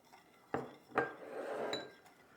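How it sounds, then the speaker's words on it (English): A spoon stirs kosher salt into a pot of low-simmering water, making two sharp metallic clinks against the pot, then a soft scraping swirl and a light final tap. The sounds are close and quiet, with no talking. "I've got 1 cup plus 2 tablespoons of kosher salt that I'm going to stir in"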